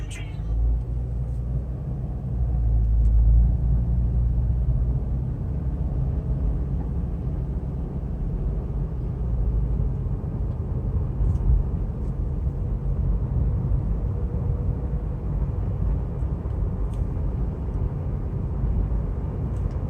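A gray 2016 Subaru Crosstrek Limited on a test drive, heard from inside the cabin as a steady low road and engine rumble with tyre noise, continuous and fairly loud for about twenty seconds without talk.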